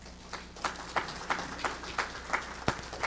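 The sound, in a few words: church congregation applause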